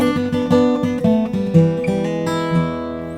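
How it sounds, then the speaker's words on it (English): A blues guitar riff with quick hammered-on notes, played clean and close in a short rhythmic phrase, with no voices. "It's a great place to actually end with that hammer-on riff from before."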